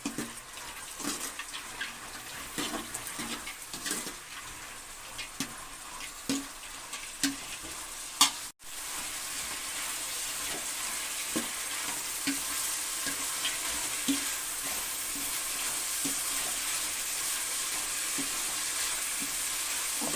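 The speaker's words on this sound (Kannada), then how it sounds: "ಒಗ್ಗರಣೆಯಲ್ಲಿ ಒಂದು ಐದು ನಿಮಿಷ ಬೇಯಬೇಕು ಬೇಯಲಿ" Fresh legumes fry in a spiced oil tempering for a home-style Karnataka curry, a soft, continuous sizzle with occasional scraping stir clicks, quiet and close, with no talking.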